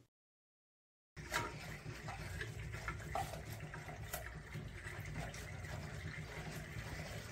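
Water rushes steadily through the safety group of an electric water heater after a hot water pipe is loosened, a constant close hiss and gurgle starting abruptly after a second of silence.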